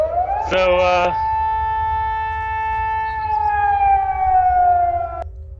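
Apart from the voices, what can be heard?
city alarm siren sound effect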